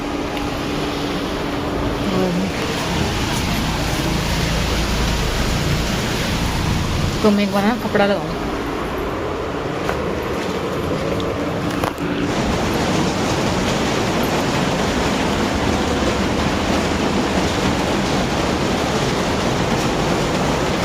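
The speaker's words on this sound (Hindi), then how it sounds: "बारिश आ गई तेज वाली" Heavy rain pours down outside a home, a loud continuous hiss that runs throughout, with someone speaking briefly over it and some clattering partway through.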